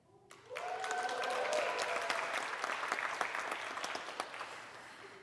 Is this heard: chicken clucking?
no